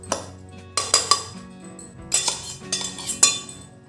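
Steel utensils clink and scrape as freshly ground fasting bhajani flour is emptied from a mixer jar into a large vessel, a series of close, bright metallic knocks and taps.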